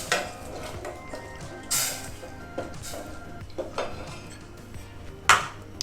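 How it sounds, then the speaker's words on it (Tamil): Sugar being stirred into a sweet sticky rice mixture, with scraping, clinking utensil knocks against a pot and a few sharper clatters, irregular and close, with no talking. "சுகர் போட்டு மிக்ஸ் பண்ணுறோம்."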